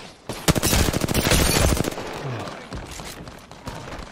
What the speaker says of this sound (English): Oh, they're getting shot at, they're getting shot at.